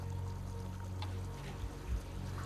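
Water pours and flows steadily through the ancient Aqua Virgo Roman aqueduct, a continuous moderate gush with a low hum and a few brief splashy bumps.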